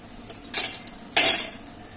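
A metal spoon stirs rasgulla in a pot of boiling date-palm jaggery syrup, giving two bright scraping clinks against the pot with faint taps between them, close and with no talk.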